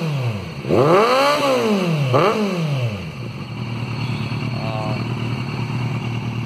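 A Kawasaki Ninja Z800 sport motorcycle revs up sharply twice, the exhaust roaring and falling back, then settles into a steady idle rumble.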